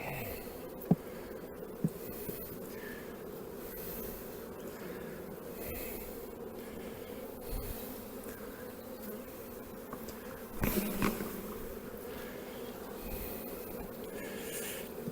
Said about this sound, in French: Alors qu'est-ce qui reste comme abeille là?